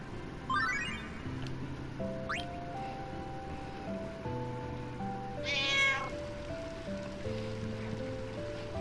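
A cat meows a few times in the Final Fantasy IX video game, clear mewing calls rising over a steady, gentle musical score.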